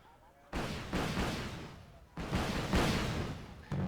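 Missile launches in a naval battle video game, heard as two loud, sudden roaring bursts that cut in and then fade, with a third starting at the end.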